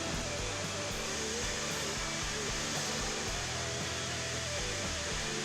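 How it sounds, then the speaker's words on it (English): A Wood-Mizer Titan industrial bandsaw line runs at a sawmill in South Africa with a dense, steady mechanical roar and a low rhythmic thumping, loud and constant throughout. "vertical bandsaw, which breaks down the log into a cant"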